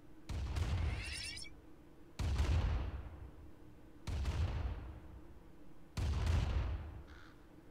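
Gunfire in the Command and Conquer real-time strategy game, quiet and distant: four separate blasts spaced about two seconds apart, each with a ringing, decaying tail, over a low steady hum.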